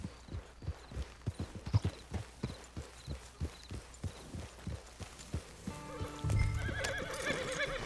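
In Red Dead Redemption 2 Online, a horse's hooves clip-clop in a steady walking rhythm, close and clear, then a loud whinny rises near the end over a louder rumble.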